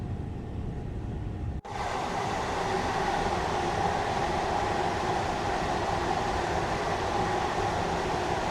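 A Gatwick Express electric train in Train Sim World 3 runs between London Victoria and Gatwick, giving a steady, full rolling rumble and hum after a brief dropout near the start, with no talk.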